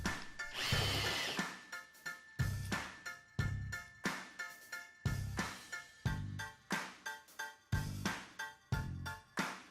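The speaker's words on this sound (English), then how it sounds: "I just cut two pieces of profile and drill a few holes." A power drill whines through aluminum profile in a series of short, repeated bursts, each one rising and cutting off, close and fairly quiet.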